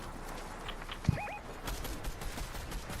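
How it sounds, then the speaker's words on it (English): Rapid bursts of video game gunfire rattle in a fast run of cracks and pops in a Rocket League match, bullets tearing through a window, with a sharp whistling tone near the start and dense clattering after it. "This window is being shot through with so many bullets"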